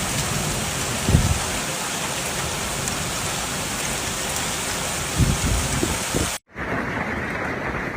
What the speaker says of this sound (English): bringing heavy rain and thunderstorms to the region